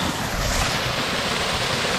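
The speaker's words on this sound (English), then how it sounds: "So many waterfalls though, this is great." Rushing water from waterfalls on a hike in the Verdugo Mountains, a steady broadband roar with some wind buffeting on the microphone, loud and continuous throughout with no talking.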